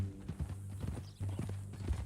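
Horse hooves clip-clop at a steady walking pace in the video game Red Dead Redemption 2, a quiet, even series of dull knocks over a low background hum.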